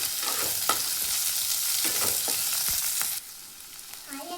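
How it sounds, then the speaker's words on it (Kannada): Chopped onion and green chillies frying in oil in a home kitchen, a bright, loud sizzle with stirring clicks that suddenly drops to a quieter crackle near the end. "ಇದನ್ನು ಚೆಂದಾಗಿ ಎಣ್ಣೆಯೊಳಗೆ ಫ್ರೈ ಮಾಡ್ಕೋಬೇಕು."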